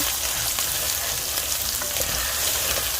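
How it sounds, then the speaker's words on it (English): Beef stew with two tablespoons of tomato paste sizzles and fries steadily in a pot on medium-high heat, with soft scraping and stirring woven through the continuous loud crackle. "I added 2 tablespoons of tomato paste. I'm just going to stir it in here"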